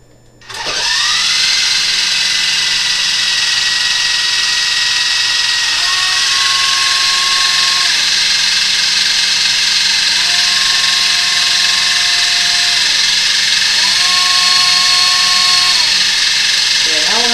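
Cobra YD-911 RC helicopter motor and rotors spinning up from silence into a loud, sustained high whine that holds steady, with pitch shifts as the throttle changes, close by and alone.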